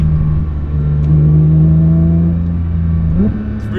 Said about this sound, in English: driving up the system pass in my very own GT3